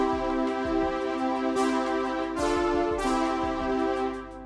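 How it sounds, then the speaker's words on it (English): A lush, classic vintage Juno-style analog synth pad holds rich sustained chords, with a soft rhythmic pulse in the low end and a few bright swells, played alone with no voices. "we're going to be creating a classic vintage Juno pad sound"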